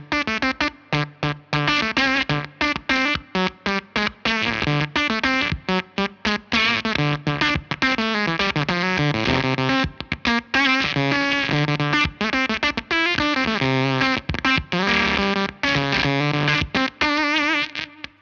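A Silktone fuzz pedal with its bias knob turned down low gives a sputtering, gated, Velcro-like distorted guitar tone in choppy bursts with frequent brief dropouts, loud and close with no talking.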